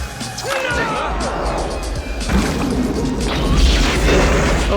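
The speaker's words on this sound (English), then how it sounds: "a massive explosion ripped through the ship" A loud, rumbling explosion aboard a ship with crashing and roaring that continues throughout, with voices mixed into the din.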